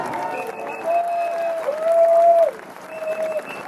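A crowd at a Les Patriotes political rally in France bursts into loud, sustained applause with some cheering, swelling and fading over several seconds with a few tonal whistles or shouts mixed in.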